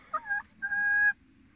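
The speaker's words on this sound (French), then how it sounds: "il ne me reste qu'une poule, montante de Pékin" A Pekin bantam hen gives two short clucking calls, a brief squawk followed by a longer, steady nasal note, close by and clear against a quiet background.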